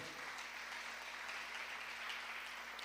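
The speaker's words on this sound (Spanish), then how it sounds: "Denle un fuerte aplauso al Señor" A church congregation applauds steadily throughout, a dense, even wash of clapping with no pauses, continuous and moderately distant, with no clear talk over it.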